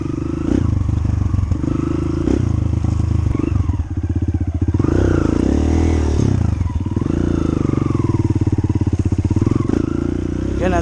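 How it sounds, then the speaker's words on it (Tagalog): Kawasaki KLX 140G and KLX 150L dirt bikes on a muddy uphill enduro trail in Sarangani, Philippines: steady loud engine drone with revving surges and clattering throughout, close by, with voices talking over it. "Gonna test our bike in uphill."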